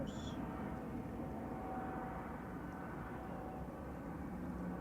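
A Ryanair Boeing 737-800 bound for Dublin starts its takeoff roll at Manchester Airport, a steady, broad engine roar holding at an even, moderate level from a distance for the whole stretch, with no voices.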